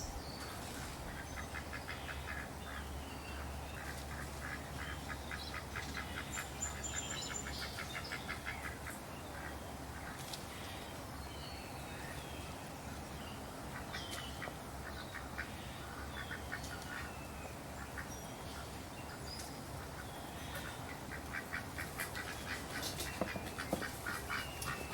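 A duck quacks repeatedly in a steady series of nasal calls, fairly faint and distant against an outdoor backdrop with faint insect and bird sounds.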